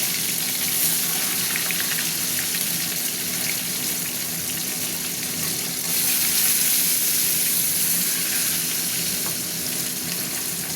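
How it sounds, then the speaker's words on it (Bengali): Pabda fish frying in oil in a pan, giving a steady, loud crackling sizzle that holds throughout with small bursts of spattering and no talk. "ভাজা হতে থাক"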